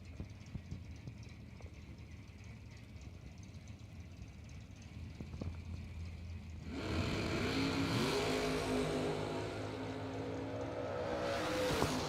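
Two drag-racing cars at a drag strip, a Camaro and a Corvette Roadster, start with a low engine idle and then roar loudly at full throttle as they launch down the track.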